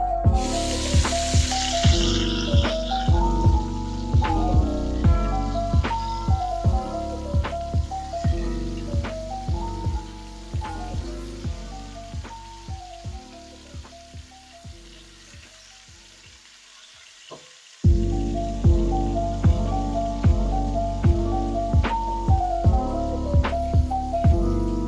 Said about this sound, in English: So it looks like my meatballs are cooking nicely.